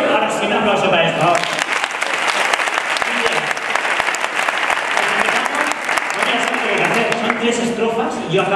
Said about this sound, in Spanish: un aplauso para esto